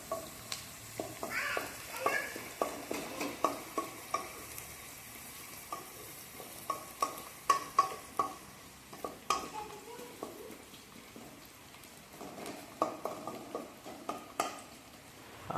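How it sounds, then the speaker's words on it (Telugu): Onions and ginger frying in a pan, a steady soft sizzle under repeated scraping strokes of a spatula stirring in an irregular rhythm, close and fairly quiet. "సో ఆనియన్ని కొంచెం వేడైన తర్వాత అల్లు అలా ఇలా తిప్పితే"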